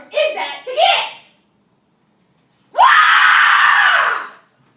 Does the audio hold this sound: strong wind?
no